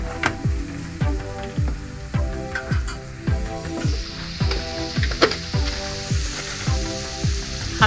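Spices sizzle and crackle in a hot pan while being stirred, the frying hiss running steadily under a rhythmic, tonal background beat, with no talking.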